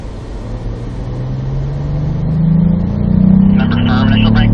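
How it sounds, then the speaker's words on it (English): A car accelerating out of a corner on the North Track at Spring Mountain Motorsports Ranch, engine note rising steadily in pitch and loudness as speed builds, with a person talking over it. "Jack, let's go ahead and start picking up our speed off this corner."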